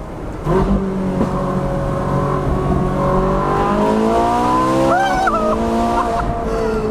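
A 2013 Ferrari 458 Spider with a 7-speed dual-clutch gearbox accelerates hard, its engine note climbing steeply through the revs and snapping through quick shifts, loud and close, with tire squeal and a brief voice underneath.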